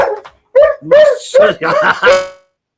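A pet dog at home lets out a burst of five or six loud, close barks in quick succession, each with a rough, voiced tone.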